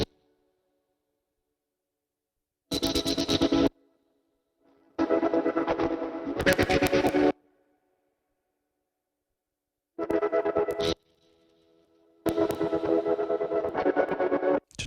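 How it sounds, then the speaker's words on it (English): Heavily driven internet-codec compression plugin effect cranked to a crunchy, mid-heavy distortion on a processed musical signal, heard in four loud bursts separated by silence. "allows you to push a certain frequency with loads of gain into this kind of internet codec and basically adds a real lot of character to it"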